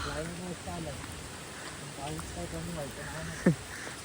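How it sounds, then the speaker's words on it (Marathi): Steady rain hisses over a foggy hillside road near a hidden Mahadev temple in Matheran, a continuous wash of noise with a voice talking over it. "पाऊस काय कमी होत नाही."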